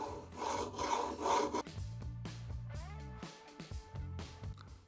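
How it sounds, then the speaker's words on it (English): A small sharpening rod rasps along the serrations of a propped-up knife in short close strokes, giving gritty scraping sounds with brief pauses, and no one speaks. "Use something to prop your knife up, it makes sharpening a lot easier, and then just follow the serrations that are ground into your knife."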